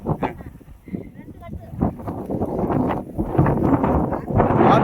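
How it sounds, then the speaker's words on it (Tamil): Strong wind gusts through a field of tall korai grass, a broad rushing roar that swells and builds toward the end, with people talking nearby over it. "காத்து தள்ளுதுங்களா?"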